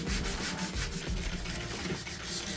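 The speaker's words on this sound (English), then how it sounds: "there was a lot of hand sanding too" Steady, continuous rasping of hand sanding on wood stripped of old paint, close and fairly loud, with rhythmic back-and-forth strokes and no voices.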